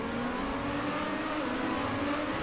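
Race cars in a video game surge off the start line together, a steady loud engine drone that holds its pitch without gaps or passing swells, with no voices over it.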